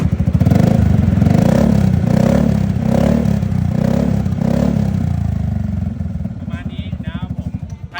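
A 2023 Yamaha XMAX scooter idling close by, with a steady low engine rumble and even pulsing that fades slightly toward the end.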